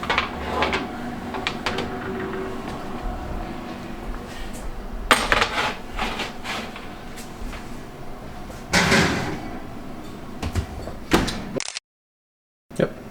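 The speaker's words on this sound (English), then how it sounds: "we're gonna pull those burgers out of the oven" Burgers come out of a home oven: a door creaks and thumps open, a metal tray scrapes and clatters against the rack, and there are further knocks and a sharp slam, close and clear before a sudden cutoff.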